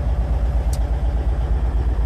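A 1995 Kenworth T800 truck with a Cummins engine idling, a steady, loud low rumble with even pulsing throughout, heard alone.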